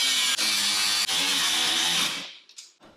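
A power cutting tool grinds steadily through braces welded onto a DeLorean exhaust pipe, a loud continuous high whine with two brief dips, then winding down and trailing off near the end.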